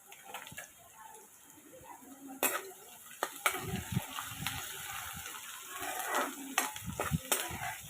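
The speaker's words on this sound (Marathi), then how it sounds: "आता हे सर्व आपण व्यवस्थित ढवळून घ्यायचा आहे कांदा आपल्याला जास्त पण एकदमच ब्राऊन नाही करायचा आहे" Onions stir-fried in a pan for a jackfruit bhaji, with irregular scraping and stirring strokes over a soft, steady sizzle, growing busier partway through.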